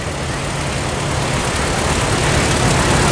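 A John Deere 620 tractor engine running at a rural prairie show, a loud, steady, dense engine roar that holds even for the whole stretch with no break.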